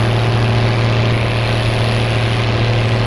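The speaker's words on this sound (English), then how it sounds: "I like the engine sound as well," A tractor engine idles in Farming Simulator 2017, a loud, steady low rumble with a constant hum that runs unbroken throughout, with no talk over it.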